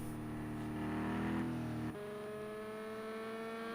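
A race car engine in a racing video game drones steadily at moderate revs near 300 km/h during a Le Mans 24 Hours race, then drops to a lower, smoother hum as it shifts, with no talking.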